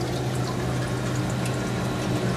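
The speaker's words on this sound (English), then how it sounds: "Fill the rest of the tub with regular water" Water pours steadily into a tub of an aeroponic seed-starting system, a constant loud rushing fill with no talk.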